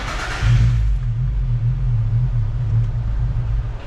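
A tuned Z drift car's engine catches and settles into a steady, loud, low idle that runs on without stopping.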